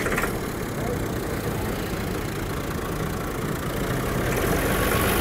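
A tractor engine idles steadily, a rough low rumble close by and loud throughout with no clear start, while voices talk over it.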